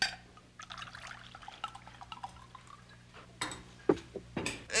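White wine pours into a glass in a few short trickling bursts toward the end, faint at first against a quiet room.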